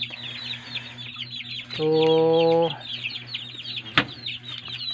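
Chickens clucking inside a coop, with steady chirping throughout and one loud, sustained call near the middle. A voice speaks briefly.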